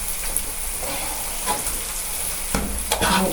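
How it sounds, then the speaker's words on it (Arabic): Peas and carrots fry in a pan while being stirred, a steady close sizzle with scraping strokes of the spoon and a few louder clatters near the end, no talking. "تيجي بقى نقلب البسله مع الجزر"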